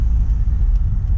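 A Chevrolet Corvette engine hums in a low, steady rumble from inside the car while cruising calmly, close and even for a brief moment.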